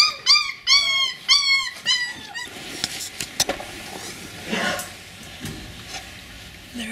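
Border Collie puppies on a heated bed outdoors give a run of several high, whining whimpers and squeaks close by, followed by quieter scattered rustling and faint background noise.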